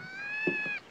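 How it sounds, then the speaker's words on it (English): A cat gives a single drawn-out meow close by, a clear tonal cry lasting under a second against a quiet room. "Blasted cats."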